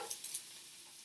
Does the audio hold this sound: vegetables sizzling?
yes